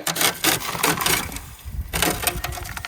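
A metal latch on a gold sluice box is worked loose with close scraping and knocking, a few sharp handling clacks in quick succession.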